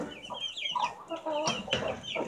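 A brief burst of close baby chicken clucking, several quick overlapping calls in a row.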